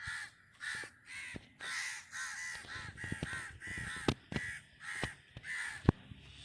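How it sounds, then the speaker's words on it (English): Crows caw repeatedly and loudly in Malaysia, harsh calls overlapping in an irregular rhythm, with sharp clicks and knocks scattered throughout. "Those crows here are absolutely noisy here today"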